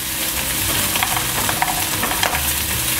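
Garlic fries in a pan alongside pork belly with a loud continuous sizzle and occasional stirring scrapes, close up and with no talking.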